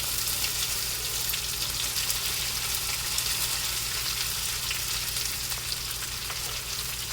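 Okra pieces frying in hot oil with cumin seeds in a home kitchen pan, a steady dense sizzle holding at even loudness throughout, close and continuous with no voices.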